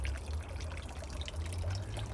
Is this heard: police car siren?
no